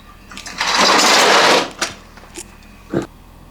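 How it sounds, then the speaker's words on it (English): A welder tacking a part onto a 500cc two-stroke motorcycle frame, giving one loud, close burst of crackling hiss about a second long, then a few short clicks and taps. "I'm just going to weld it straight onto that"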